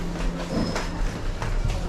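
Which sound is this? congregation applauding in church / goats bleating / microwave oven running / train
train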